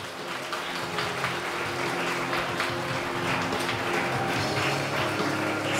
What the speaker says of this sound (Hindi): इस टीम के लिए जोरदार तालियां।